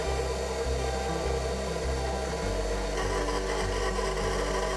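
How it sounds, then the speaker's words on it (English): An electric mixer churns pepernoten cookie dough with a continuous close whirring and scraping grind, its low motor tone shifting in steps as the dough works. "I'm going to leave the mixer going"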